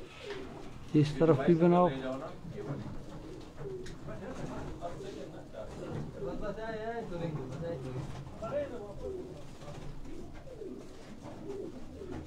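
Pigeons of the Sialkot Batairay breed coo in a cage, soft low warbling calls rising in a brief louder burst early on, under ongoing conversation.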